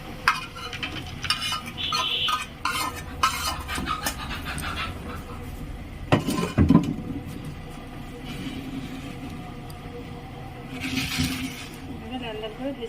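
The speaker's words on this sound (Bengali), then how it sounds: "লাল লাল করে ভেজে নেব কাজু কিশমিশ একসাথে।" Cashews and raisins fry together in a pan with an irregular scrape and clatter of stirring over a crackling sizzle, close by and fairly loud, with a person talking at times.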